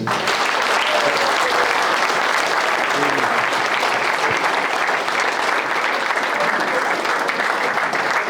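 Fans at a football club Q&A evening give manager Adam Hinshelwood a steady, sustained round of applause, dense crowd clapping that fills the room evenly from start to finish with only faint voices mixed in.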